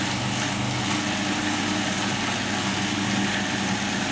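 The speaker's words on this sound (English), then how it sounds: "I'm just going to make a little bit of noise and blend it" Kitchen blender grinding bread, parsley, garlic and onions into a coarse mix for Japanese steak burgers, a loud, continuous motor whir holding steady throughout with no talking.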